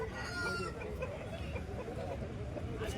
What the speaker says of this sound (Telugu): ఈ విధంగా కోళ్ళు వస్తూ ఉంటాయి